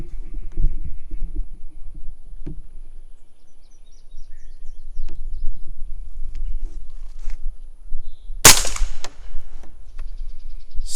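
A single sharp suppressed gunshot from Winchester 9mm ammunition fired through a can, one loud crack late in the clip over low outdoor rumble and faint handling noise.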